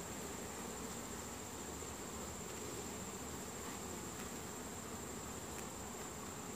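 Bees around an open hive being reassembled, a faint, even, steady hum of many insects with a thin high whine, continuous and without speech.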